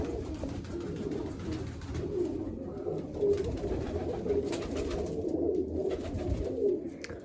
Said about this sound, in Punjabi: ਕੋਈ ਵੀ ਤਿੰਨ ਕਬੂਤਰ ਲੜੀ ਜਾਂਦੇ ਆ